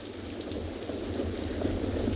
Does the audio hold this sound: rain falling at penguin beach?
yes